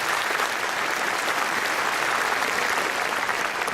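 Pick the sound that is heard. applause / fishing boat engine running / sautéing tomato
applause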